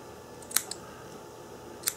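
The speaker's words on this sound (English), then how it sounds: "let's cut some cotton off here" Scissors snipping cotton wick for a vape coil rebuild, two or three crisp close clicks spaced apart in a quiet room, no speech.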